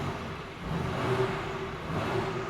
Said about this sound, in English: now with the engine running successfully